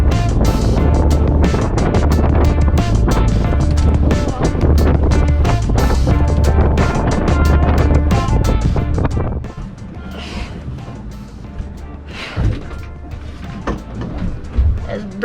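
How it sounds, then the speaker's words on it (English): Strong wind roars across the microphone aboard a cruising sailboat, loud and gusty for most of the stretch before easing into quieter rushing water and intermittent gusts; a voice is faintly present. "It's breezy out there."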